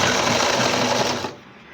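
A sewing machine runs fast and steady while stitching a gathered seam on a churidar pajama, a dense close rattling hum that stops abruptly near the end.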